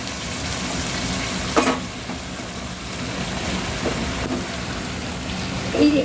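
Gourd leaves tipped into a hot pan with softened stems give a steady, broadband frying sizzle throughout, with a couple of brief louder crackles as the greens hit the oil; no talking.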